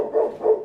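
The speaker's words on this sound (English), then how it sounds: "Wait a minute, dogs are barking." Two short barks from a dog, close and fairly loud, spaced about a third of a second apart, with no voices over them.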